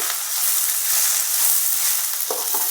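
Drumstick leaves fry on a low flame, giving a steady, bright sizzle throughout, with a couple of soft stirring scrapes near the end.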